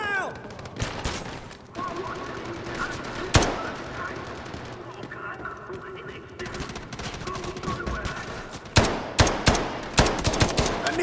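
Rapid automatic gunfire in the Delta Force video game campaign, loud bursts and sharp single shots cutting through a continuous battle din, with a final cluster of close shots near the end.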